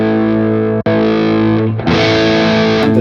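An electric guitar plays sustained, heavily distorted chords through a REVV Dynamis pedal on its red channel, loud and close, with a brief cut before the chord changes.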